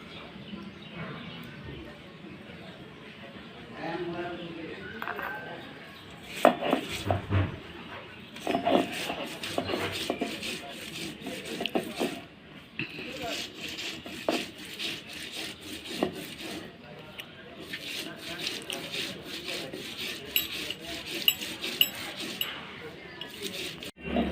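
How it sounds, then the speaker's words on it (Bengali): Chopped onions being ground on a stone slab (pata), a rhythmic rough rubbing and grinding that comes and goes, with a voice talking over it and birds cooing in the background. "এখন আমি পেঁয়াজ কুচিগুলো পাটায় বেটে নেব"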